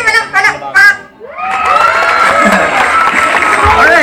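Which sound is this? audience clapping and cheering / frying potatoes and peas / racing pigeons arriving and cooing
audience clapping and cheering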